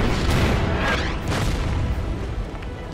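Artillery fire in a World War II strategy war game set on the Burma Road by the Irrawaddy River, heavy booming blasts rolling one after another and fading out over a few seconds, loud and close with no talk.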